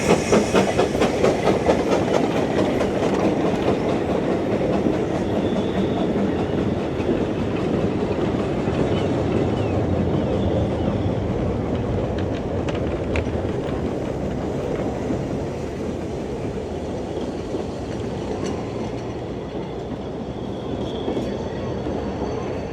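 Trains on the Ffestiniog Railway roll steadily along the Cob embankment in a cavalcade, a loud continuous rumble with rhythmic clickety-clack of wheels over rail joints throughout.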